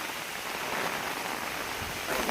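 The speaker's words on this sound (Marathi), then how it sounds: "पाऊस पण खूप आहे कोकणात." Heavy monsoon rain falling in Konkan during the rice-planting season, a steady dense hiss of drops on surfaces that holds evenly throughout and swells slightly louder at the end, with no voices.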